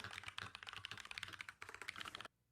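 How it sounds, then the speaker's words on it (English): Soft, steady typing on a computer keyboard, a fast irregular patter of keystrokes heard alone for a couple of seconds before it stops abruptly. "It's a lot of that typing sound, which I love."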